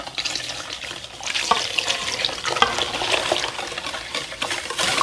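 Thick coconut milk is poured into a cassava cake mixture, making a continuous liquid splashing and sloshing that stays fairly steady and close, with light stirring clatter throughout.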